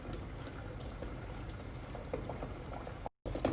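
Water boiling in a pot while an egg cooks, a quiet steady bubbling with faint pops, briefly cutting out near the end.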